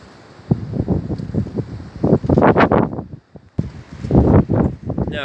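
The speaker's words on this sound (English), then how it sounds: "Really is certainly blowy." Strong storm wind of Storm Ciara buffets an outdoor microphone in the UK countryside, in loud irregular gusts that surge and drop, with a brief lull before the rushing returns.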